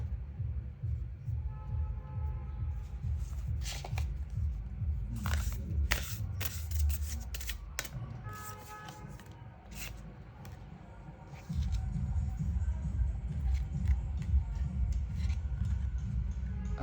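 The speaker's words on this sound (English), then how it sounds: "Let's pick out your oracle cards and see what we have." Oracle cards shuffled and picked during a card reading, with repeated papery riffles, flicks and scrapes in bursts over a steady low hum, close and moderately quiet.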